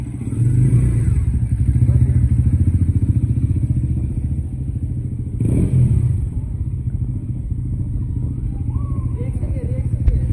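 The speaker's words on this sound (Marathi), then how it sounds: "आता सूरज गाडी चालवतो NS 400D" A Bajaj Pulsar NS 400 motorcycle engine rumbles steadily close by, its low throb rising briefly mid-way as it revs, with a clatter near the end.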